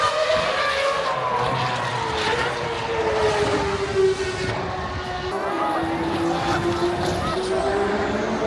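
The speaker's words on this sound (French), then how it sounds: "Ah, c'est des vraies voitures." Real race cars speed around a track at a GP Explorer event, a continuous loud engine roar with rising and falling pitch as cars pass, and crowd noise and voices underneath.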